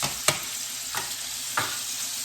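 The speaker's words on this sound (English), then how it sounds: "here is where we throw in this fresh garlic" Fresh garlic sizzles in olive oil in a pan beside rib eye steak, with a continuous hiss broken by three sharp spatter bursts at even intervals; no one speaks.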